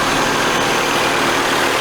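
A 1982 Nissan 720 King Cab truck, long abandoned and with a faulty alternator, runs steadily at idle close by, a loud, even engine drone without breaks.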